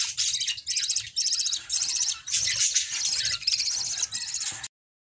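Young, unhealthy lovebirds kept as caged pets chirp in rapid, high-pitched bursts, several birds calling close together in repeated trills with brief pauses, alone and fairly near, ending abruptly.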